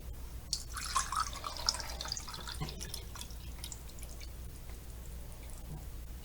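Water pours and trickles into a small cone during a classroom volume experiment, a soft steady splashing with scattered drips and brief sharper splashes early on, close and fairly quiet, with no talk.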